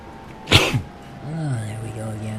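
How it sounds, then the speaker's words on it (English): A single sharp, close sneeze bursts out near the start, and a low voice starts speaking right after it. "I thought we'd actually get an entire episode without the YouTube sneezes"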